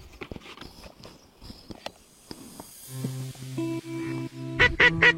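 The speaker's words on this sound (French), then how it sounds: "Après 1 heure à attendre, un canard approche, mais il restera encore très méfiant." A wild duck approaching during a duck hunt gives several honking calls close together near the end, after a stretch of quiet rustling and small knocks.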